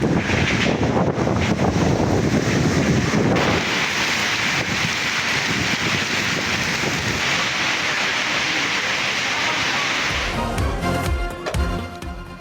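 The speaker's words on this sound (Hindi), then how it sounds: "कई इलाकों में तेज बारिश और जालाबारी।" Heavy rain and gusting wind in Lahore roar loudly and continuously, buffeting the microphone, with the noise easing slightly toward the end.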